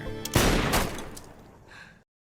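A rifle shot in a western film, a single sharp, loud blast that rings out and fades over about a second and a half before a further brief, fainter sound and then silence.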